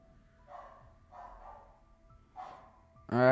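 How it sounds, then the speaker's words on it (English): A dog at home barks in three separate muffled bursts at a moderate distance, and a voice starts up right after the last one. "I'm gonna mute my mic because my dog is going crazy."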